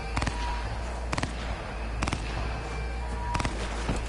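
Gunfire erupts in a Cyberpunk 2077 shootout as four sharp clusters of rapid shots crack out roughly a second apart over a steady low background hum.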